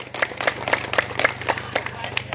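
Scattered audience members clap at a religious lecture, a sparse, fairly regular run of hand claps at moderate distance over a low steady hum, rather quiet and thin rather than a full ovation.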